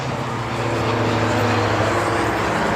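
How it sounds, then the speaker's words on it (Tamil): A jet airplane passes overhead outside a mosque in Dubai, a loud, steady roaring drone that holds through the moment without speech. "மேலே ஒரு ஜெட்டு ஃப்ளைட்டு போகுது பாருங்கள்"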